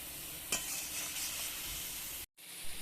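Spice masala sautéing in oil for a fish curry, with a steady close sizzle and occasional stirring scrapes, ending in a brief cut to silence.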